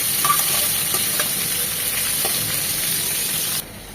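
Onions soften in a little oil for a tripe curry, giving a steady close sizzle and hiss with light stirring scrapes, until the sound drops away at the end.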